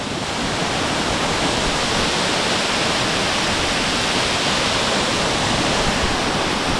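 Waterfall heard as a loud, dense, steady roar of rushing water, close and continuous throughout, with no talking over it.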